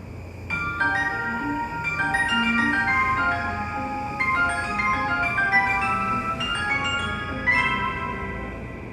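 A bright electronic chime melody plays loudly at a Japanese train station platform, a cheerful tune of bell-like notes repeating its phrases like a departure jingle.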